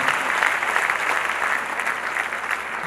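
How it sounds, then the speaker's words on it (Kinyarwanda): A church congregation breaks into loud, sustained applause, many hands clapping steadily and evenly with no pauses. "Reka dukomere Imana amashyi cyane."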